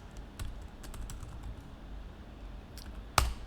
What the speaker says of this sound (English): I'm typing in the wrong place now.